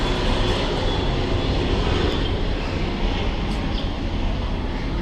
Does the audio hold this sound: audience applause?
no